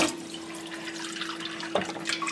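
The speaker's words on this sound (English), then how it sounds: "add a little bit of water to this" Water runs and splashes steadily into a bowl of pasta salad dressing in a home kitchen, a continuous moderate pouring sound with a brief louder splash near the end and a faint steady hum beneath.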